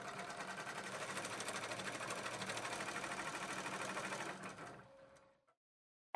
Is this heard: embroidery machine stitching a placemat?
yes